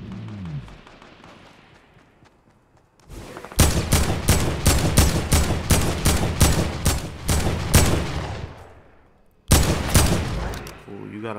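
Scoped revolver gunfire in Fortnite, with a rapid burst of about a dozen loud, sharp shots close to the listener, then a pause and a few more shots.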